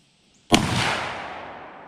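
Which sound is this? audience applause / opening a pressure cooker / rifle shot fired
rifle shot fired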